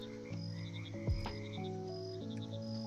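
Frogs croak in the Mudborne frog management video game, sustained tonal croaks layered over a steady ambient musical drone, with a brief low thump near the middle.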